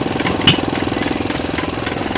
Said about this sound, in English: Real dependable engine. Got a real bark to that exhaust.